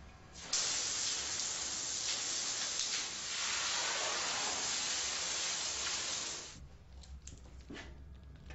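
A Vikan hygiene spray gun lays cleaning foam across a floor, a steady broadband hiss that runs loud and even for about six seconds before cutting off, followed by faint handling noises.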